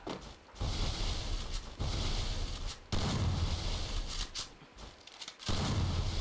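Gunfire in a video game: bursts of dense, booming shots with brief gaps between volleys, loud and continuous over several seconds, no voices over it.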